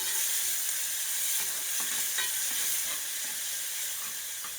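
Steady, loud sizzling of ingredients frying in a pan for Puerto Rican rice and beans, with soft stirring scrapes running through it continuously.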